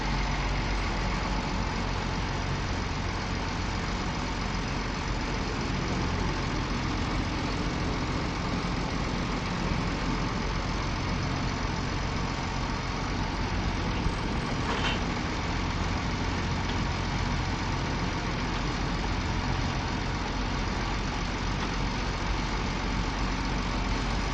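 A farm vehicle's engine runs at a steady, loud idle with a constant low rumble and broadband roar, close and unbroken, no talk.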